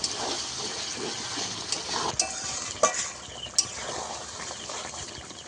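Chicken pieces are stirred and fried in oil with spices, giving a continuous close sizzle and a scraping, clinking spoon against the pan, with a few sharp knocks, no talk.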